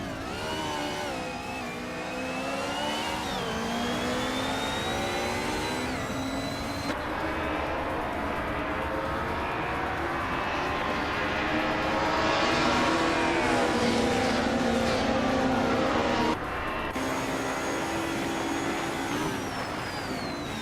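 Racing car engines at the start of a race at the Red Bull Ring, with a 1995 BMW M3 in the pack, roar loudly and continuously, their pitches rising and shifting together as they rev and accelerate.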